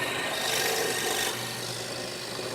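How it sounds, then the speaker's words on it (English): A drill fitted with a plug cutter bores a series of holes into a wooden board, giving a steady, loud, coarse rasping grind that runs continuously and close by. "I'm going to drill a series of holes in here with"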